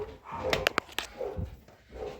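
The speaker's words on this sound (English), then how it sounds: "Oh, those dumb dogs." Several dogs bark in quick sharp bursts near the middle, a few distinct yaps at moderate distance over faint background noise, in an off-grid homestead setting.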